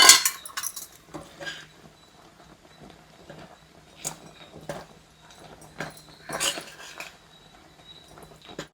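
A spoon scrapes and clinks sporadically against a metal pan while peanuts and flattened rice are stirred, with scattered metallic taps and rattles between quiet stretches.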